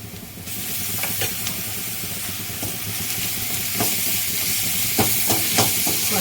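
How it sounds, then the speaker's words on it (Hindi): Garlic ginger paste hitting a pan of golden fried onions sets off a loud, steady sizzle and hiss. Scattered scraping stirs and clinks run through it, close by and with no voices. "प्याज हल्का सा भून गया है, सुनहरा हो गया है। इसमें लहसुन अदरक का पेस्ट डाल देंगे।"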